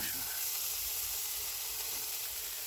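Chicken slowly roasting over low wood embers gives off a steady, soft sizzling hiss that runs evenly throughout, with no talking over it.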